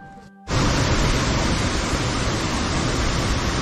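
A mountain river near a Himalayan base camp on the Kumbhakarna trek rushes loudly and steadily. Its broad roar of flowing water starts abruptly after a brief quieter moment and continues without pause.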